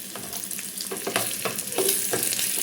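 Curry leaves and cashews temper in hot oil in a pan for barnyard millet pongal, giving a steady close crackling sizzle broken by a few sharper pops and spoon scrapes as the pan is stirred.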